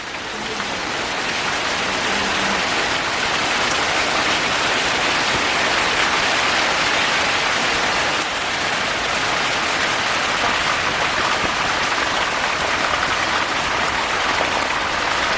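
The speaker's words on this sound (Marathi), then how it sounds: "जेवता जेवता पाऊस आला बघा मोठा" Heavy monsoon rain in the Konkan countryside pours steadily and loudly, a dense unbroken roar of water hitting surfaces with no other sounds.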